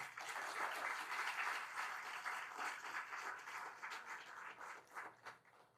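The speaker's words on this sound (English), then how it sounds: "Could we have a round of applause for them?" An audience at a school graduation ceremony applauds teachers and section heads, a soft, dense wash of clapping from a large crowd at a distance that holds, then thins and fades.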